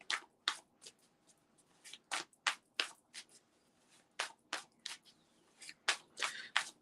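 Tarot cards being shuffled by hand in a steady series of crisp riffling bursts, close and fairly loud, with brief gaps between shuffles and no talking.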